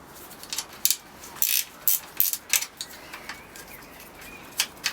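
A tight bolt on a Honda CBR750 Hurricane motorcycle is worked loose with a ratchet, giving a series of sharp, close clicks and metallic snaps in irregular bursts.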